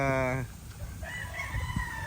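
Tethered gamecock stags on a farm after heavy rain: a rooster's crow cuts off at the start, followed by softer clucks and bird calls in the background, outdoors and fairly near.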